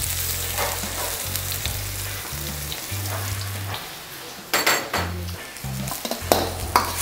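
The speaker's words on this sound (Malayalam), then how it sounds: "ഏകദേശം നമ്മളൊന്ന് ചെറുതായി സോട്ട് ചെയ്യണം." Finely chopped ginger, garlic and onion sauté gently in a pan over low heat for a Kerala chicken curry, a steady close sizzle broken by scraping stirs, with a low humming drone underneath.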